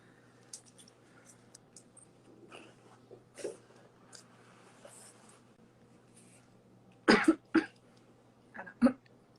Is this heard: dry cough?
yes